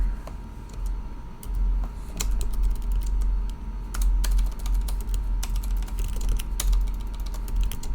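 Rapid typing on a computer keyboard, with irregular clusters of close, crisp key clicks and taps continuing steadily throughout over a low background hum.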